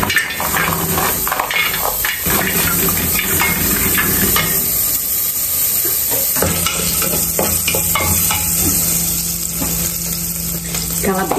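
Bacon frying in a pressure cooker pot, a steady loud sizzle and hiss with stirring scrapes throughout, alone without talk.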